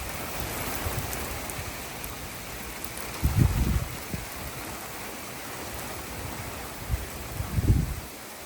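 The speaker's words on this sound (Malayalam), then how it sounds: "കാറ്റ് കണ്ടില്ലേ ഇപ്പോൾ കാറ്റ് പതുക്കെ തുടങ്ങി" Steady rain and gusty wind ahead of Hurricane Helene, a continuous wash of hiss with a few low rumbling gusts rising and falling, and no voices.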